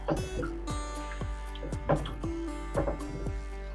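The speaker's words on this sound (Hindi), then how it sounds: "आप 1 कप पानी का डाल दें। एक दफ़ा मिक्स कर दें।" Water is stirred into a pot of Hyderabadi mirchi ka salan curry, giving a series of wet squelching, sloshing strokes in a steady rhythm, close and moderately quiet over a low hum.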